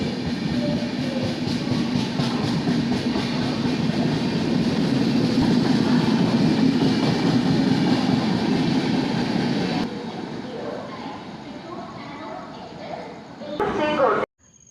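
A long-distance train rumbles past platform 2 at Thrissur railway station. The rolling roar is loud and steady for about ten seconds, then drops to a quieter hum as it moves on.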